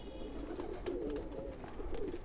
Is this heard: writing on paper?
no